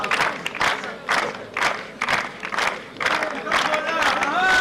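A crowd at a strongman strength contest cheers a contestant on, with loud rhythmic chanting and shouting bursts repeating about once a second and clapping mixed in.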